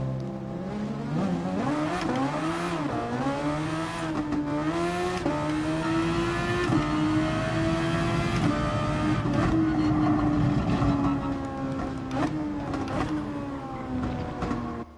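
A race car engine in the GT Sport video game, with sustained loud revving that climbs and drops as gears shift, droning continuously with no talk.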